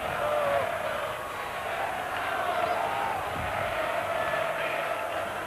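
Argentine rugby supporters cheering at a 1987 Argentina v Australia test match, a loud continuous crowd roar with shouting and whistles, under broadcast commentary.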